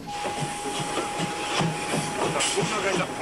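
A steam locomotive of a chartered special train in Poland hisses steadily, a broad airy rush with faint clanks, while voices murmur in the background.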